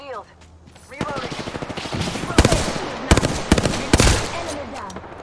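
Rapid bursts of gunfire in the Apex Legends video game, with sharp automatic volleys and louder single cracks over a busy game soundscape; short voice lines speak in between.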